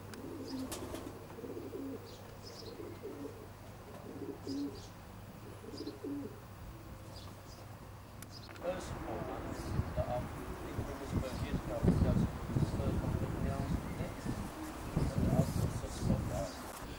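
Racing pigeons coo softly inside a North London loft, repeated low throaty calls near at hand, joined by scattered chirps and a man's speech that grows busier and louder in the second half.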